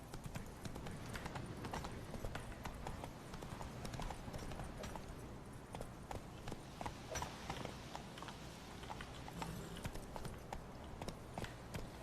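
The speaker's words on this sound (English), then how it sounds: "Run, Roach. Roach, run" A horse galloping in The Witcher 3 video game, rapid rhythmic hoofbeats drumming continuously and fairly close, with faint game sounds around them.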